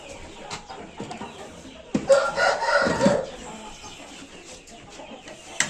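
Chickens and chicks clucking on a farm as they are fed, a busy scatter of soft clucks with a louder, denser burst of calls in the middle, close by and with no talk.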